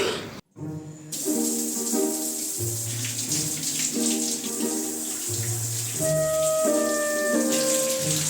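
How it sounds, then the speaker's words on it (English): A shower runs in a steady, continuous rush of water for several seconds after a brief gap, with tonal notes sounding over it. "I really wanna take a shower."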